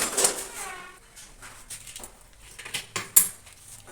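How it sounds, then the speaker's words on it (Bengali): Cabbage and potatoes with spices get stirred in a pan on the stove, producing sporadic light scrapes and metallic clinks of a utensil against the pan, fairly quiet and close. "বাঁধাকপিগুলো একটু মশলার সাথে একটু নাড়াচাড়া করে নিই এর মধ্যে আলুগুলো দিয়ে দিচ্ছি"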